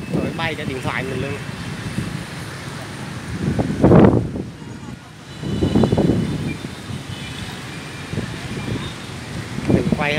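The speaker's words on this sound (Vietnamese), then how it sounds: "Gió thổi mạnh lắm, thổi bay cả điện thoại mình luôn." Strong gusty wind blows at a six-way city intersection in Buon Ma Thuot on a winter afternoon, buffeting the microphone in rising and falling roars, with traffic noise in the background and a person talking throughout.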